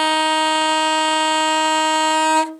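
One steady alto saxophone tone, a C, held for over two seconds, full and reedy, ending abruptly with no talking.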